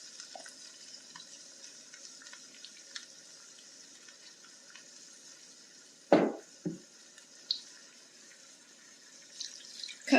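Tap water runs steadily into a cup in a home kitchen while beef stew is being made, a soft continuous hiss with a couple of sharper clunks partway through.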